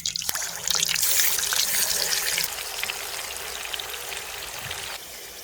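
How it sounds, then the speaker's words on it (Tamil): Chicken pieces drop into hot oil for chicken fried rice. A loud burst of crackling sizzle starts right away, then settles into a softer, steady frying hiss, close up and without talk. "எண்ணெய் சூடாகிட்டு இப்போ இறைச்சி துண்டுகளை போட்டு பொரிச்சு எடுத்துக்கலாம்."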